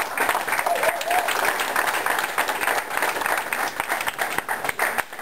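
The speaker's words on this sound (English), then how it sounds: "Give yourselves a round of applause." Dense audience applause at a college sports awards ceremony, steady and fairly loud throughout and tapering slightly near the end.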